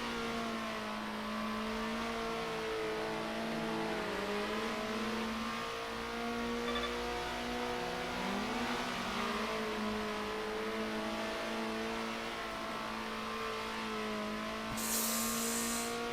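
A racing car engine in the video game Circuit Superstars, 60s GP revival class, holds a continuous loud drone that rises and falls with gear shifts, other engines mingling in, ending with a brief burst of higher noise.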